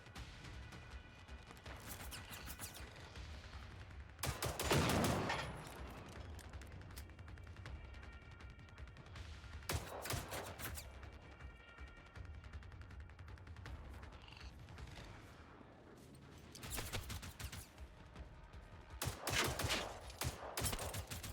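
Machine gun fire in the Generation Zero shooter, heard as several loud bursts of rapid shots that stand out against a quiet, hissy background, spaced several seconds apart.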